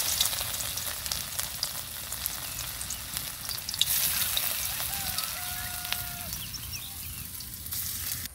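Round taro (kochu) fritters fry in hot oil in a wok, giving a continuous crackling sizzle with scattered pops and no talking.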